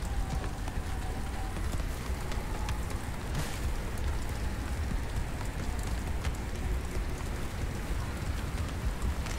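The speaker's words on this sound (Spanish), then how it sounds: "que está granizando ahí" A steady, dense patter of small hard pellets striking surfaces, video game hail in Subnautica: Below Zero falling all around, constant and moderately loud without any voices.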